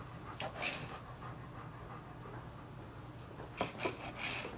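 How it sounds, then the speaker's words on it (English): Quiet, breathy dog panting close by, rhythmic and soft, with faint rustling and scraping in the background. "That panting you're hearing, of course, is the damn dog."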